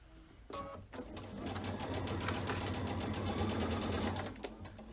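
A sewing machine stitches a 1/4 inch seam with fabric right sides together. After a short start it settles into a steady, close whirring run that holds for several seconds and then stops, with no talking.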